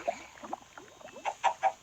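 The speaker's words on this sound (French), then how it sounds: "Donc voici mes poulets." Chickens in a video game give a short run of soft clucks, the last few louder and more distinct, heard close and alone.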